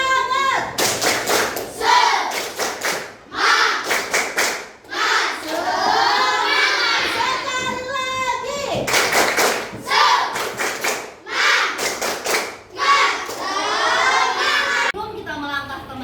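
Children in a Pancasila class for fourth graders clap a rhythmic chant together, loud claps in quick patterned bursts with chanting voices between them, led by a teacher.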